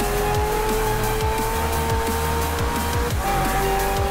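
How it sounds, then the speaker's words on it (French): Car braking in the Forza Horizon 4 racing game, a loud steady engine drone with a high whining tone held throughout while the tires squeal under hard braking, with no talking. "Oh, le coup de frein là."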